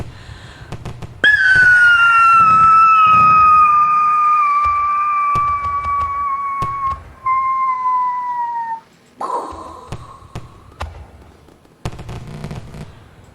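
A man vocally imitates fireworks for a comedy show quiz audience: a long, falling whistle followed by a second whistle and a breathy burst, with sharp clicks and pops around it, loud and close.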